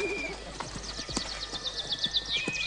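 A frightened horse during a race, its hooves clip-clopping in a steady rhythm close by with a brief whinny, birds chirping faintly in the background.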